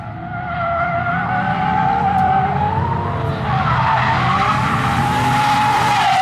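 A bone-stock Nissan 350Z drifts sideways, its tires skidding and squealing continuously over a loud, steady engine roar that builds and shifts in pitch throughout.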